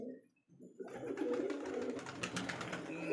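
After a brief quiet moment, close pigeon cooing rises from a nest box holding a pigeon chick, continuing in soft, fluttering repeated calls.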